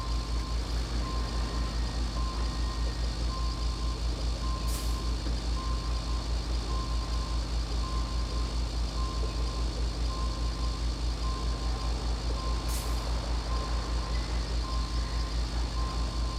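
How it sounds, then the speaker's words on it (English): A big truck in RoadCraft reverses at a machine yard, its engine droning steadily under a regular reversing beep that repeats throughout, with a couple of brief hissing air bursts. "let's do what the big truck did, but we'll do it in reverse"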